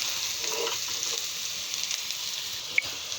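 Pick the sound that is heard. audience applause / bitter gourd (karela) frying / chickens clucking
bitter gourd (karela) frying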